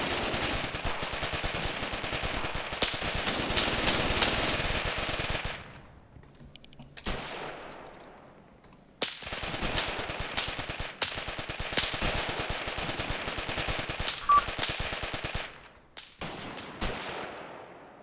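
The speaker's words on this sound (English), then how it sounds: "Oh, there we go. That was a machine gun." Machine gun fire in the war game Graviteam Tactics Mius, long dense bursts of rapid rattling shots with abrupt gaps between them, loud and sustained with occasional heavier reports.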